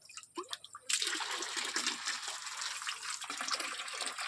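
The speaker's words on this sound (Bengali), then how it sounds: "দেখো আমার বাড়ির কলতলাটা দেখো কত জল পড়ছে" Water pouring from two taps at a home washing area, a steady hissing gush that starts abruptly after a moment of drips and continues close and constant.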